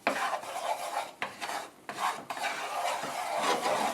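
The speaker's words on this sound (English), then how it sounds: "Stir that well till it's nice and smooth." Spoon scraping and rasping steadily through Swedish meatball sauce in a pan, a continuous close stirring rub with brief pauses around one and two seconds.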